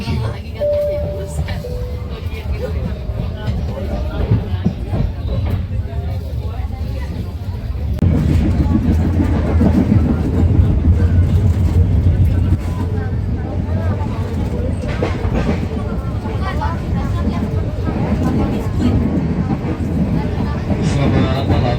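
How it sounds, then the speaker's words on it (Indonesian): Serayu night passenger train from Jakarta rumbling steadily from inside the carriage, a continuous low drone that grows louder partway through, with a brief tone early on and people talking under it. "Selamat datang di kereta api Sanayu yang akan mengambil ke tujuan akhir stasiun Purwokerto"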